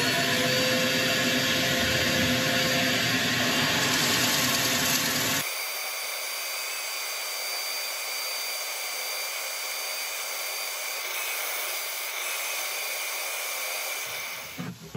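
Sanding the outside of a woodturned piece spinning on a lathe, a steady loud whirring hum with a broadband rasp that drops to a quieter, thinner drone partway through and then trails off near the end.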